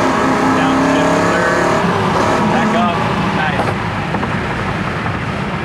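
A 1976 Chevy Camaro V8 drones loudly and steadily at cruising speed around 65 mph, with road and wind noise throughout and a voice talking faintly underneath.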